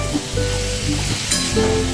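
Potatoes and pointed gourd fry in a pan over lowered heat for a Bengali aloo potol dish, giving a steady, close crackling sizzle that runs unbroken with no voices.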